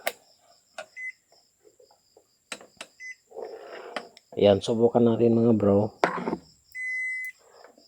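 A multimeter continuity buzzer gives short high beeps while an inverter wire is tested for corrosion or breaks, brief chirps at first, then one longer steady tone near the end, with someone talking in between.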